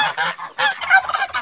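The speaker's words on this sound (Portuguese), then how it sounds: "A gente vai estar, olha lá, soltando o ganso." A goose being released on a small farm honks loudly and repeatedly at close range, giving several harsh calls in quick succession.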